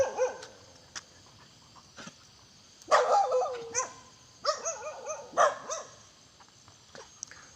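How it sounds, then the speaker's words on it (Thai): Stray dogs playing together outdoors give scattered yips, barks and whimpering growls, near and fairly loud in several clustered bursts with quiet gaps between, and no talk. "นี่คือหมาอารมณ์ดีนะครับ"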